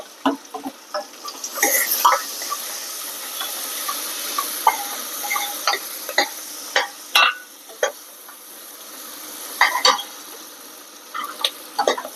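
Onions fry in plenty of oil with curry leaves for a North Karnataka dish, a soft continuous sizzle broken by frequent sharp spatters and stirring clicks.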